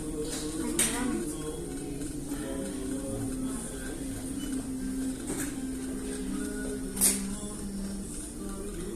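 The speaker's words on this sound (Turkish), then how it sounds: "Evet sağlam dikiş atıyor." A sewing machine in a tailoring workplace runs steadily nearby with a continuous mechanical whir and stitching clatter, occasional sharper clicks, while people talk over it.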